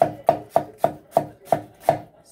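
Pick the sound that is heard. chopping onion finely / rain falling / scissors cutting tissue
chopping onion finely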